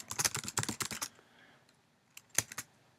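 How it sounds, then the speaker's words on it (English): Quick bursts of keystrokes on a computer keyboard as dummy text is typed, about a second of close, crisp clicking, then a pause and a shorter flurry of taps. "we'll go ahead and just type some"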